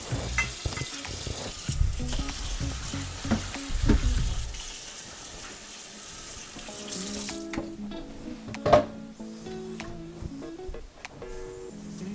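A cutting board is rinsed under a running kitchen tap, with steady broadband splashing and knocks for about four seconds, then quieter clatter and a sharp clunk as the water slows.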